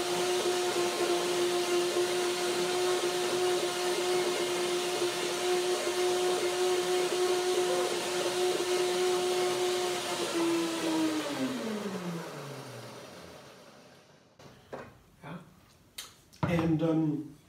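A blender blending banana and lemon whirs with a steady high-pitched motor hum for several seconds, then winds down and stops, followed by a few clunks.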